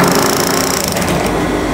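A sewing machine stitches steadily, running with a fast, continuous mechanical whirr and rattle at close range throughout, with no talk over it.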